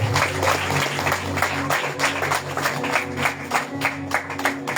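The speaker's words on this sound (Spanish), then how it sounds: "¿Le puedes dar una ofrenda de palmas a nuestro Dios?" A church congregation claps in offering to God, a steady wash of many hands with rhythmic accents, moderately loud with a low hum of music or organ beneath.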